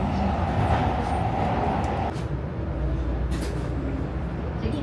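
A subway train at a Kyoto station, a loud steady rumble and rolling drone with a tonal whine that drops out partway, plus brief rattles near the end.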